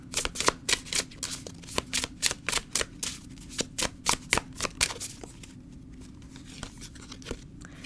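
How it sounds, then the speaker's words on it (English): Tarot cards are shuffled and handled close up in a quick rhythmic series of crisp flicks and snaps for about five seconds, then a few quieter card slides; no talking. "let's get one more card"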